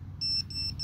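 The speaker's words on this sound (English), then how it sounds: "Let's stop this beeping." Electronic beeps from a drone, high and thin, repeating in short pulses over a low rumbling background, fairly faint.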